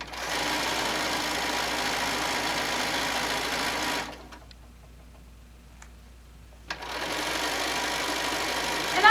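A sewing machine stitches an apron panel in a steady, fast mechanical whir that stops for a couple of seconds mid-way and then resumes at the same pace.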